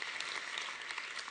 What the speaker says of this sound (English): If we can get a round of applause for ODI